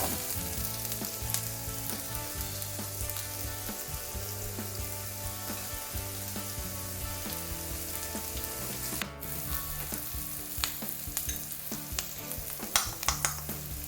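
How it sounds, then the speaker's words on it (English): Chopped onions fry in a hot pan with a steady, close sizzle and crackle that holds throughout. Occasional stirring scrapes and small clanks sound over it near the end. "Now that our pan is hot, we add the onions that we chopped earlier."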